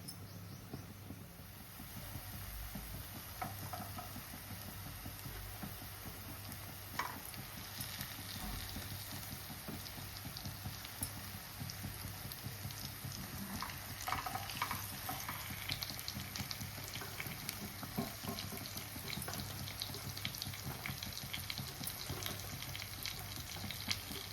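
Marinated fish pieces cooking in a pan for a fish curry, giving a steady, continuous sizzle and frying hiss with faint stirring, close by and alone.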